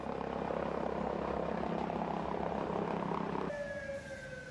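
An ambulance helicopter based at a hospital drones steadily with a constant rotor and engine roar, then a sharp, high whine cuts in near the end as the noise eases.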